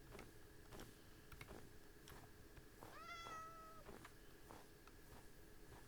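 A cat in the video game Minecraft gives a single clear, drawn-out meow over a steady, low game background with faint ticks.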